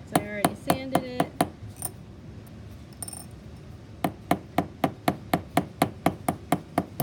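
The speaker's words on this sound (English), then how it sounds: "Soft taps. Because if I miss and I'm hitting hard, then I'm going to put a big dent in my metal, like around my rivet" Hammer soft-taps a metal rivet into a dome in rapid, evenly spaced ringing metallic taps. A short burst opens, a pause follows, then a long steady series of taps, close and clear.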